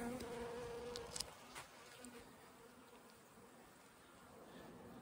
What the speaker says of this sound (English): that's a nice bee flight day today